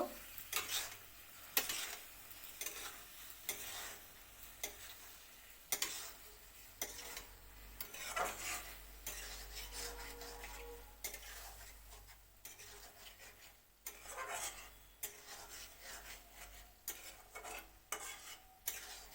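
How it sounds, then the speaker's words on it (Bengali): Tomatoes and spices are stirred and fried in a pan for a Bengali rohu fish curry, with steady scraping and clinking of a spoon against the pan over a soft sizzle, up close and without talk. "টমেটো মশলা একসঙ্গে কষিয়ে নিলাম"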